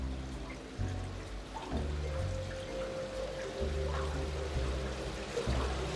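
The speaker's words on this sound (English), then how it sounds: "fill it with some water" Water poured into a container while rinsing brine from tiny hatchery animals, a continuous close splashing trickle over low hum, with slight surges as the flow shifts.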